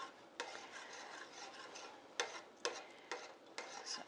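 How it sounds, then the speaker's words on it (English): Macaroni and cheese with cream cheese being stirred makes a quiet, soft rasping scrape, with a few sharper scrapes of the utensil against the pot toward the end. No voices. "I give it a couple more stirs and that cream cheese will be mixed in there"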